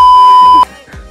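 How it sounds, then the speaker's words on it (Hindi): A phone rings with a single loud, steady electronic beep tone held for about half a second, followed by faint background noise and a brief voice. "पापा का फोन आ रहा है"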